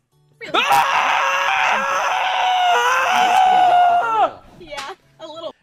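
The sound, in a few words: streamer screaming in a played Twitch clip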